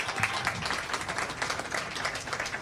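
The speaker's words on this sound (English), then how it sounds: "Yeah, that's worth clapping for." Audience at a live news event applauds, a moderate crowd clapping steadily with soft irregular peaks throughout, no clear talking over it.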